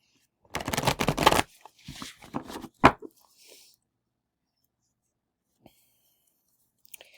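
Cards are shuffled close up in a quick riffle, followed by a few shorter ruffling and tapping bursts, then near silence with faint clicks.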